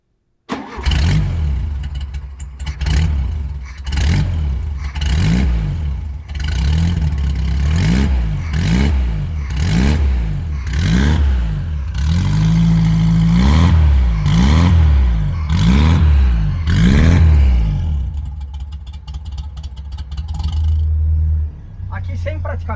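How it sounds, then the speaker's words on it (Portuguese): A car with a 1600 engine cranks and starts, then idles and revs in repeated rising and falling surges as it pulls away and drives, the engine loud and close throughout. "Vamos dar uma partida e uma volta para ver como é que ele ficou?"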